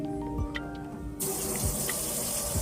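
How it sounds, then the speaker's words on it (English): Water from a tap running steadily into a sink for handwashing during a medical asepsis procedure, starting abruptly partway through and continuing as a constant nearby gush. "So now we will turn on the water and adjust the flow."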